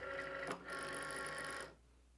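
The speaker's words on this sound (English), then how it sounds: "Load the mat." A Cricut cutting machine draws in its cutting mat with a steady mechanical whir and a brief clunk midway, running for about a second and a half before stopping into near silence.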